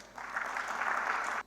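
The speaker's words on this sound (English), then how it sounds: "Let's welcome Hiten with a round of applause" Indoor audience at a design conference applauding to welcome a speaker, a steady burst of clapping from many hands lasting just over a second, fairly soft, then cutting off sharply.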